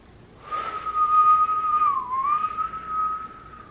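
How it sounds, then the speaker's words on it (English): A person whistles one sustained, slightly wavering note that dips and rises again, loud and close, heard alone for about three seconds. "That's the only whistle I can do."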